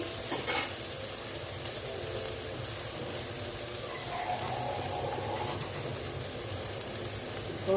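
Garden okra fries in a pan for a quick Tamil curry, giving a soft, continuous sizzle with a brief stirring clatter near the start and no talking.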